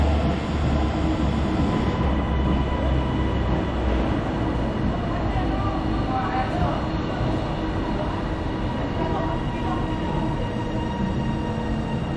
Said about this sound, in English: Please do not attempt to board this train.